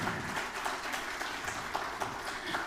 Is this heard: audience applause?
yes